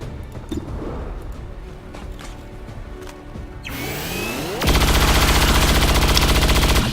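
Gunfire from soldiers in the turn-based strategy game XCOM 2: War of the Chosen, first a low rumble with scattered impacts, then a loud, dense burst of rapid automatic shots that runs steadily to the end.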